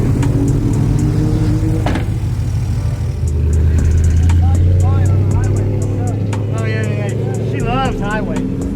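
A stock BMW E92 M3 runs on a race track, its engine droning steadily and swelling as it pulls, with voices talking inside the car over the mechanical noise.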